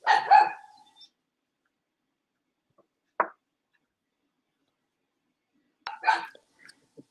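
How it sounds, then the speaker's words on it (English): Dogs bark at home in a quiet room: a short burst of several barks, a single sharp bark a few seconds later, then another quick cluster, each fairly close and loud against near silence. "My dogs are barking here"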